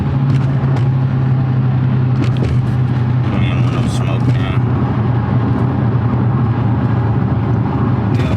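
A Dodge Hellcat engine drones with a steady low hum while driving at night, heard from inside the cabin as someone talks over it.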